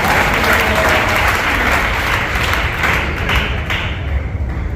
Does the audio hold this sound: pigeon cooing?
no